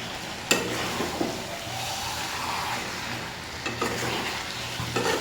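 Meat being stir-fried down in a pan for a home-cooked meat and potato curry, a steady sizzle with a few sharp scrapes and clatters of a spatula stirring, close and alone.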